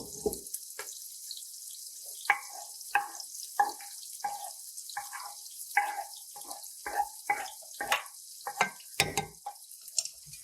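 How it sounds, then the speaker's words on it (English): Marinara sauce ingredients sizzle in a pan: a steady high hiss with scattered crackles and pops, fairly quiet and close. "Yeah, it's starting to sizzle."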